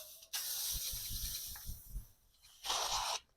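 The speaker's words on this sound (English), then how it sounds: "I want to go over that with my Kiss Beauty setting spray" Kiss Beauty makeup setting spray hisses out in two close bursts, a long mist at first and then a shorter spritz, with faint handling noises between.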